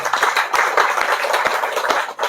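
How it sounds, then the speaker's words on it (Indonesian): A seated audience at an Indonesian public gathering claps hands together, a dense, steady burst of many palms at close range lasting a couple of seconds, with no talk over it. "Tepuk tangan dulu."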